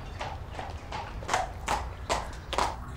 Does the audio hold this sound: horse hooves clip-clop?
yes